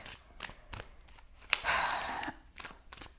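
A stack of tarot cards riffles in one quick, crisp burst, with scattered soft taps and clicks of handling before and after.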